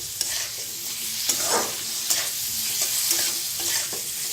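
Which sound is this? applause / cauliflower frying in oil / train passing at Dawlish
cauliflower frying in oil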